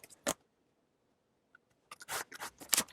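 Scissors trim a greeting card down to a smaller size, making a short snip followed by a pause and then a cluster of close crisp cuts with faint paper rustle.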